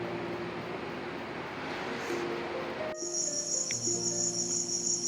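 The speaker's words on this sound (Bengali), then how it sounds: "ঝিঝি পোকার ডাক।" Crickets chirping at night during a family trip to Murguma, a steady high shrill trill that starts abruptly partway through and continues over low tonal background hum.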